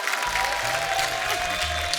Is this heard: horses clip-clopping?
no